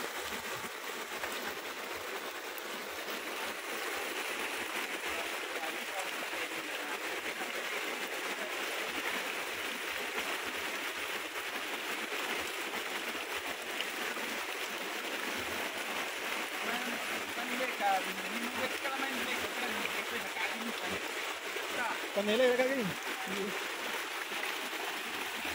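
Flooding Lagartero river rushing with a huge volume of water, a steady broadband roar with faint voices talking now and then over the torrent.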